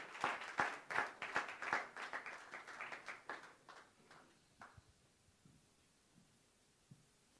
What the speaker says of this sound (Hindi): गाइस जोरदार तालियां होनी चाहिए।